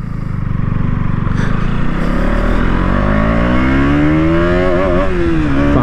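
A KTM Duke 200 motorcycle accelerates hard in first gear, its engine note climbing steadily in pitch as the revs rise. The sound is loud, close and continuous, with no voices.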